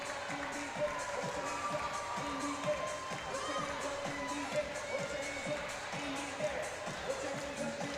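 A gymnastics arena crowd at a college meet after a balance beam routine, a steady roar of cheering and clapping with rhythmic thumping, voices mixed in throughout.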